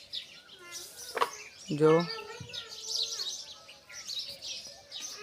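Pigeons, some feeding on the ground and others perched above, give a few short chirps and calls at close range, with a brief spoken word in between.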